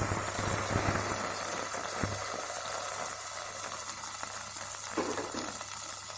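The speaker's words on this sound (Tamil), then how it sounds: "நம்ம புளி கரைசல் சேர்த்துடலாம்." Turkey berries (sundakkai) frying in a pan as tamarind solution is poured in for kulambu, giving a steady, close sizzle with a low hum beneath and a few brief crackles, no talking.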